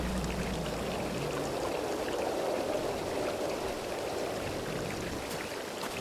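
A water feature in the game Satinavs Ketten splashes and pours in a steady, soft rush, like a small stream or fountain, fairly faint and unbroken, with no talk.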